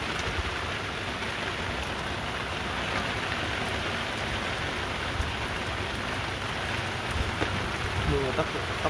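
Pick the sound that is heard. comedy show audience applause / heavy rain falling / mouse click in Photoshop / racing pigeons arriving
heavy rain falling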